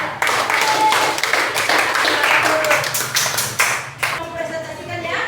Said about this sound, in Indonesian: Beri aplaus buat kelompok 3.